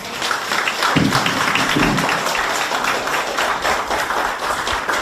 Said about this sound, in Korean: 다시 한번 우리 임성호 대표님께 뜨거운 박수 부탁드리겠습니다